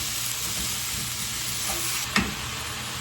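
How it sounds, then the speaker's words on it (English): Crisped ground beef being mashed in a hot frying pan, a steady loud sizzle with stirring and scraping, one brief clack of a utensil partway through. "So we're gonna mush them up really quick"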